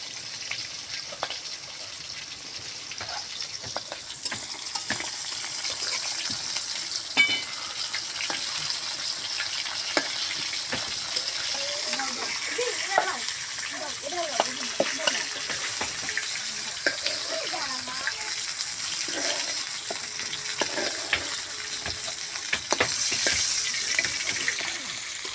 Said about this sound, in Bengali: আমি সুন্দর হালকা করে মাছ ভাজে নিয়েছি